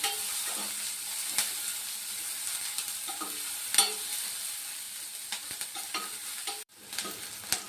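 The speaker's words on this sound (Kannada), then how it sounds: "ಈರುಳ್ಳಿ ಸ್ವಲ್ಪ ಬಣ್ಣ ಬರೋವರೆಗೂ ಸ್ವಲ್ಪ ಹುರ್ಕೊಳ್ಳೋಣ" Onions fry in a pan for an ivy gourd stir-fry, making a soft, continuous sizzle. Sharp scraping and clinking strokes from stirring break through now and then, and the sound is close, with no talking.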